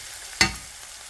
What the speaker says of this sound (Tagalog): ginisa ko na po yung onion, garlic at luya sa butter